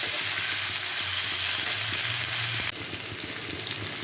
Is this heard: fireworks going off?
no